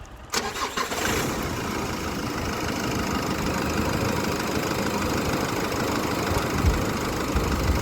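A Nissan Navara D40 pickup's diesel engine kicks on abruptly and settles into a loud, rough, clattering idle that runs steadily to the end.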